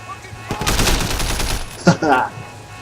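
Gunfire in the video game Sleeping Dogs, a quick burst of rapid loud shots followed by a couple of separate reports, with someone talking over it.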